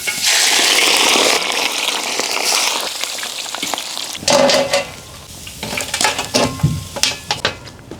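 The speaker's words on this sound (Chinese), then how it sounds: "锅中烧油，7成油温，下入羊排炸一下。" Pre-boiled lamb ribs drop into oil heated in a wok and deep-fry with a loud, dense sizzling roar that gradually subsides, followed by scattered clinks and scrapes of utensils against the pan.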